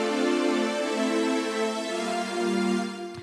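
Keyboard string ensemble patch playing sustained chords, smooth layered bowed-string tones that shift between held harmonies with no percussion or voices.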